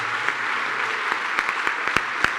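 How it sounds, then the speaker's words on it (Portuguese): A church congregation claps together in steady, dense applause that holds evenly throughout, with a few sharper claps standing out near the microphone and no voices on top. "Vamos aplaudir ao Senhor por sua obra maravilhosa."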